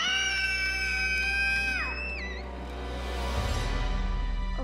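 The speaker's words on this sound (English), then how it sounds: "we're done screaming now" Several people screaming loudly together in a comedy film scene, sustained high shrill cries that break off, then a noisy rumbling burst of crowd sound.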